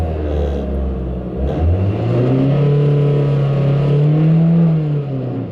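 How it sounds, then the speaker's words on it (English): A car engine after a throttle body and idle air control repair, rumbling low at idle, then climbing into a sustained rev that rises and levels off before easing back; close and loud, without speech. "accelerating the car"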